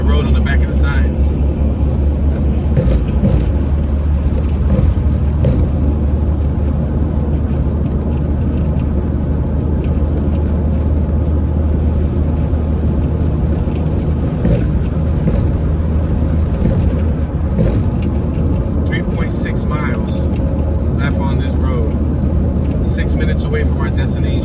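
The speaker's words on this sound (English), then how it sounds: "Now mind you, we're on the slow lane. We're doing 70 miles per hour." A car cruises at 70 mph in the slow lane of an Atlanta highway, giving a steady, loud low rumble of engine and road noise throughout, with a person talking over it.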